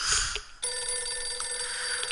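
A telephone in the survival game 60 Seconds rings with a steady electronic bell tone that starts abruptly and holds continuously, close and clear over a quiet backdrop.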